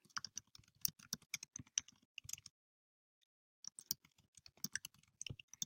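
Close, quiet typing on a computer keyboard, with rapid irregular key clicks in two bursts separated by a pause of about a second.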